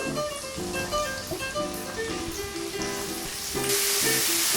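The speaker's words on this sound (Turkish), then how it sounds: "Soğanlar biraz yumuşadı. Şimdi hemen ben mantarımı da ekliyorum." Sliced mushrooms added to softened onions in a hot pan, giving a steady loud sizzle and crackle with stirring, under a faint musical background and without speech.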